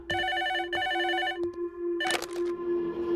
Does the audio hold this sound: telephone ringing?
yes